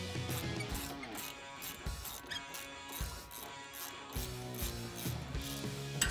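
A 10 mm bolt is worked loose from the strut assembly of a 2005-2014 Mustang GT with a ratchet, giving quiet rapid clicking bursts broken by brief pauses.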